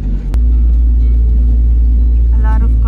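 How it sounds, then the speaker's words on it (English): Cars and container trucks passing near the Tecun Uman border crossing between Guatemala and Mexico, a loud close low rumble of traffic that holds steady after a sharp knock at the start. "A lot of cars and trucks."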